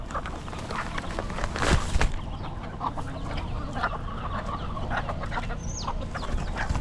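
Roosters and chickens cluck and squawk on a street in Key West, a dense, busy flock close by, with one louder burst near the start and sharper calls scattered through.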